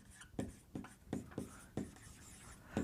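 A pen scratches out short, separate strokes on a board during a calculus lesson, each stroke a crisp, quiet scrape with brief pauses between, close and alone.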